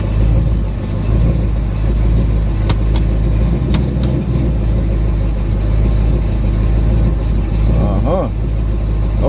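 LS-swapped car engine running at a loud, steady idle with a low droning rumble, then briefly revved near the end; a couple of sharp clicks are heard along the way.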